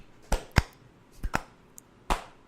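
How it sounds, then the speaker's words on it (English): Several slow, deliberate hand claps, sharp and fairly close, spaced irregularly about half a second to a second apart over quiet room tone. "Slow clap, sir."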